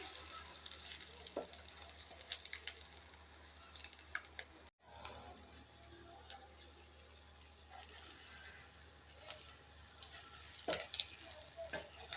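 Egg masala fries in a pan with a steady, quiet sizzle and a few scattered clicks and scrapes from turning, close by and without talk.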